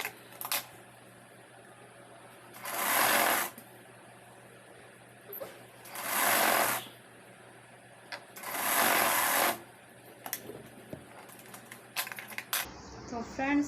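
A sewing machine stitches a designer blouse in three separate bursts of about a second each, steady and fairly close, with quiet pauses and small handling noises between runs.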